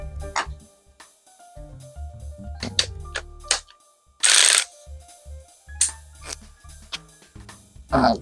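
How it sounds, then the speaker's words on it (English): A ratchet with an extension working a 13mm bolt during a battery replacement on a Pontiac Fiero: sparse, close metallic ticks and clicks, with a short, loud, harsh burst midway and no voices. "we're going to remove the 13mm bolt. I have my extension on the bolt."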